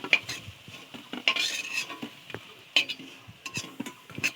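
Fried bottle gourd leaf fritters are lifted out of a pan of hot oil with a metal utensil, giving sharp clinks and scrapes in an irregular rhythm over a faint sizzle.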